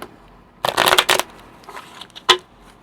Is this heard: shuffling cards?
yes